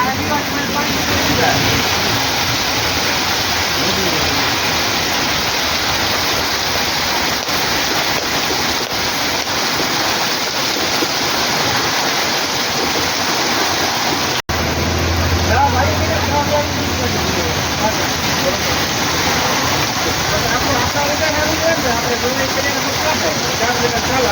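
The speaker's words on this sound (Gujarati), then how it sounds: "લગભગ પિસ્તાલીસથી પચાસ મિનિટથી એક ધારો વરસાદ શરૂ છે" Dense, steady monsoon rain in Kalavad, Gujarat roars without a break, a broad hiss that never lets up, with a brief low rumble partway through.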